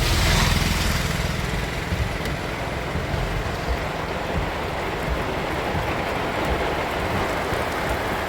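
Steady rain pours down beside the Chalakudy river in Kerala, a dense, continuous hiss that stays loud and even for the whole stretch, with no voices over it.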